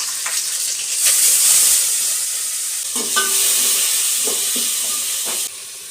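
Ginger garlic paste, whole spices and green chillies hit hot oil for a mutton curry, giving a loud steady sizzle with clinks and scraping of stirring over it.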